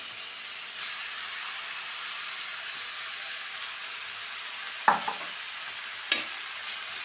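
Drumstick leaves stirred into masala frying in a pan for a Kerala-style drumstick leaf curry, a steady low sizzle throughout, broken by two brief scraping clatters of the spoon near the end.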